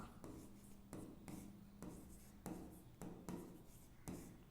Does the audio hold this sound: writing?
yes